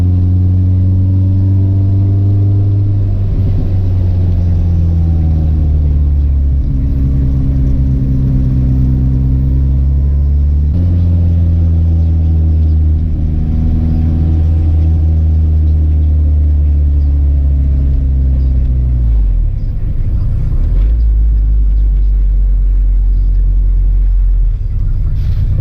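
The engine of an all-wheel-drive Honda CRX drones loudly and close from inside while driving, a deep steady rumble with repeated rising revs and gear shifts over the whole stretch.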